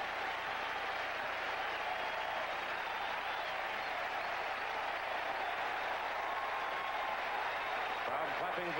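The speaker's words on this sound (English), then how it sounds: "Crowd clapping for the strikeout at 1-2" Stadium crowd at a 1981 Yankees home playoff game against the Milwaukee Brewers claps and cheers for a strikeout, a steady dense roar of applause and crowd noise that fills the whole stretch without letup.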